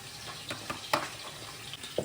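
Garlic and crushed coriander frying in a pan, a quiet sizzle with scattered small pops and crackles close by, no voices.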